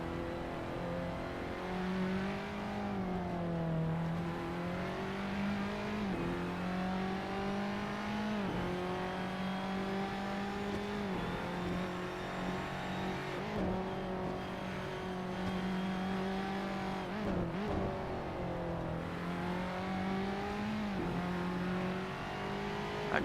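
Formula Abarth open-wheel race car in Assetto Corsa at the Nürburgring, its engine droning steadily and loudly with repeated rises and dips in pitch through gear changes, running alone without any voices.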